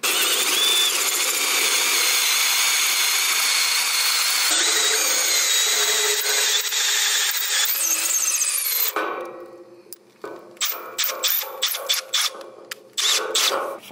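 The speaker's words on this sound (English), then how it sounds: "they're gonna be drilling in to each foot" A power drill drives anchors into carport feet with a loud, continuous whine for about nine seconds, then stops, followed by scattered clanks and rattles of metal parts being handled.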